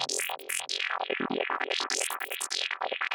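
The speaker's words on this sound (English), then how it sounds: "This is 1/8 dotted ping pong delay coming from, as the usual, Echo Boy." A synth arpeggio in Bitwig repeats through a dotted-eighth ping-pong delay from Echo Boy, producing bright, plucky notes with echoes bouncing between them in a busy, continuous pattern.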